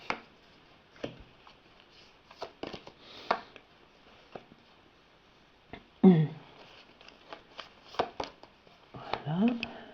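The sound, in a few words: cutting and shuffling a deck of cards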